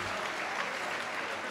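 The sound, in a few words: applause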